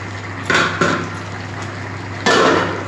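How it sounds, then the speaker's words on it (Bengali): Fried fish going into a simmering vegetable curry in a pan, a few sharp clatters and splashes over a steady low bubbling hum, close by, with no talk. "এই যে ভাজা মাছ আমি দিয়ে দিলাম"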